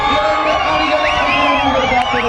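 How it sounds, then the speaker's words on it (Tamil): A crowd cheers and whoops at an outdoor volleyball final, loud and sustained for the whole stretch, with many overlapping shrill shouts and whistles rising and falling over a dense wash of voices. "அனல் பறக்கிறது இந்த மைதானத்தில் கைத்தட்டல்கள்"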